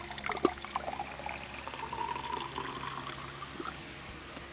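Water trickles and pours steadily into a drinking glass or bottle, a soft continuous liquid flow at close range with a few small clinks near the start, heard alone without talk.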